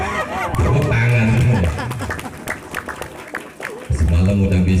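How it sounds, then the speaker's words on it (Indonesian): An audience at an Indonesian religious lecture breaks into a short burst of clapping in the middle, framed by a voice speaking over a loud sound system before and after. "Tepuk tangan."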